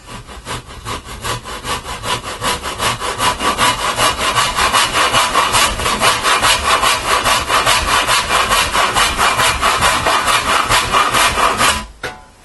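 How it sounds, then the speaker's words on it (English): A handsaw cuts through wood for a sledge in loud, even back-and-forth strokes that build to a fast steady rhythm and stop abruptly near the end. "I'm just going to get basically the handsaw and cut right there."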